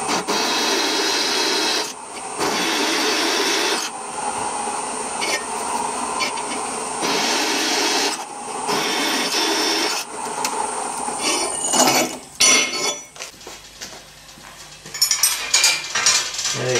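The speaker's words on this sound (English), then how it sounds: "These holes here now have to be drilled out 11 millimetres" A loud, sustained grinding whir of a drill boring 11 mm holes into metal for a garden bridge, running in long continuous bursts with brief pauses, followed by scattered clatter and scraping.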